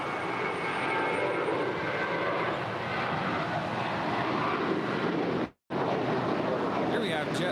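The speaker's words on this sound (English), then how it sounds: "Here we have JetBlue Airways Flight 324 departing to JFK in New York. It's a 5-year-old Airbus A321." A five-year-old JetBlue Airways Airbus A321 jet departs LAX, its engines a steady broadband roar that holds loud throughout, broken by one brief dropout near the end.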